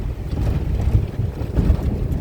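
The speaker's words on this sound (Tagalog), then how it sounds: "Mahangin eh." Steady gusty wind roars across the microphone outdoors on a fishing boat, a low rumbling buffet with no voices.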